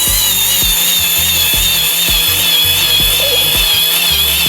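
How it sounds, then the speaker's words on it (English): A cordless power drill drives screws to fix a shower enclosure's corner post retaining clip, a loud, steady whirring run broken by a rhythmic series of low thumping pulses as the screw bites. "You'll now want to fit your corner post retaining clip, and using the screws provided, there's 4 of them, will fix this in place."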